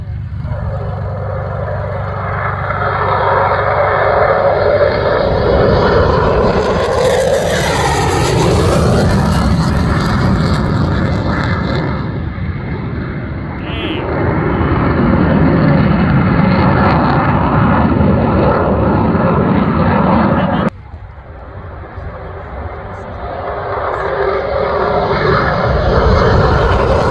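Airplane making a low pass at the EAA AirVenture Oshkosh airshow, its engine roaring loud and steady, swelling and shifting in pitch as it goes by, with crowd noise beneath.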